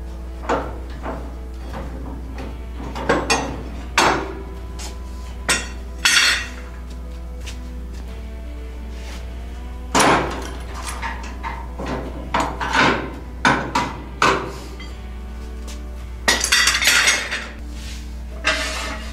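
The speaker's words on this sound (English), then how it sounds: "Now we're going to pull the clamps off." Clamps pulled off the front springs of a 1932 car, close metallic clanks and clinks scattered irregularly over a steady low hum, with a cluster of heavier knocks near the end.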